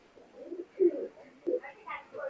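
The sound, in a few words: pair of Kasri pigeons cooing in a cage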